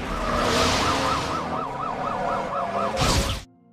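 Ambulance siren wailing loudly in a film scene, a rapid rising-and-falling electronic warble over vehicle engine noise, ending with a short burst of louder noise before cutting off.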